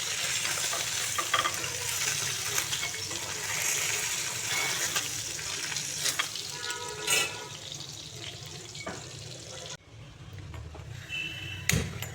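Puti fish frying in oil in a pan, a steady close sizzle with stirring and scraping noises, easing off briefly near the end before the crackle picks up again.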